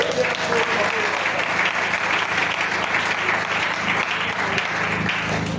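A church congregation applauds steadily and densely throughout, a loud, continuous wash of clapping from many hands, with voices faintly mixed in beneath.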